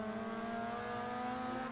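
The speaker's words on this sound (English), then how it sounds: "McGee over there on the rev limiter hard" Mazda MX-5 engine held hard against the rev limiter in Forza Horizon 2, a steady, loud, buzzing drone at a fixed high pitch that holds without break for under two seconds.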